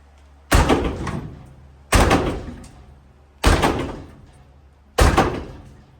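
Four loud, sharp metallic-sounding hammer impacts on a totaled Duramax truck, spaced about every second and a half, each ringing out and fading before the next.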